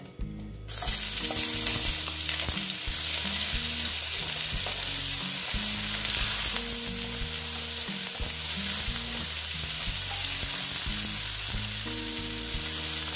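Onions fry in hot oil tempered with black cumin for an egg and poppy-seed curry, a steady loud sizzle with stirring clatter running the whole time, no voices.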